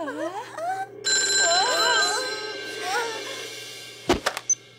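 A telephone rings in an animated spy cartoon, its electronic warbling tones rising and falling over a steady hum, followed by a couple of sharp clicks like a receiver being picked up.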